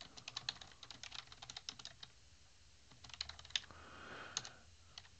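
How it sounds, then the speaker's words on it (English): Typing on a computer keyboard while editing a file in the vim text editor: rapid, uneven clusters of light key clicks at close range, with a brief soft pause midway and no talking. "So I can type"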